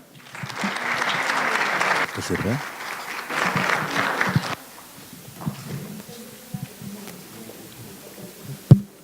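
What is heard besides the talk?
applause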